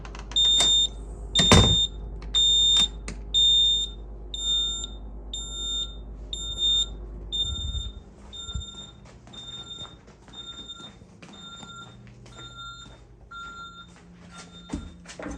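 Loud, repeated high-pitched electronic beeping from a Vista-20P security system during its entry delay sounds in a steady rhythm, with shuffling and handling noises underneath, then continues more quietly.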